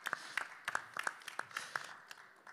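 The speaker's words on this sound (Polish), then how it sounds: "Wielkie brawa." Scattered applause from a small audience at a boxing weigh-in ceremony greeting Olympic champion Marian Kasprzyk, a few distinct hand claps in an uneven rhythm, fairly faint and close, without voices.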